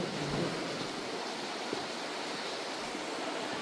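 Water running below inside a cave, a continuous broad rushing wash with a faint, even texture and no voices.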